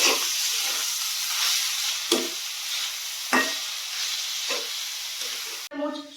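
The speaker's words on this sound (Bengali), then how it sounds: "ভালো করে নেড়ে নেব।" Spiced chicken patty filling with chili powder, pepper and chili flakes being stirred in a pan, with a steady close sizzle and occasional spatula scrapes and taps. A brief clink comes at the very end.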